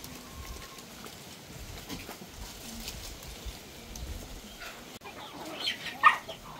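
Chickens cluck softly and intermittently while drinking water mixed with molasses on a farm, with a few louder calls near the end over low background noise.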